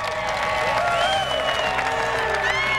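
Dense, steady murmur of a capacity crowd inside an arena at the NCAA indoor track and field championships, a continuous wash of chatter and noise under a louder voice speaking.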